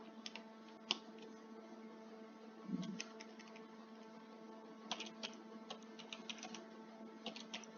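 Computer keyboard keys typed in scattered bursts of sharp clicks, close and fairly quiet over a steady electronic hum, during setup of American Truck Simulator.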